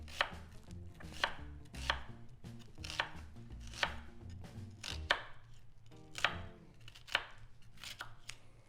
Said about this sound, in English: I'm gonna get a nice chop on this onion